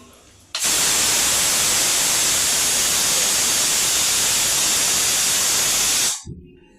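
A gas stove burner catches and settles into a steady, loud hiss lasting several seconds in a home kitchen while mutton fry is being cooked, then cuts off abruptly.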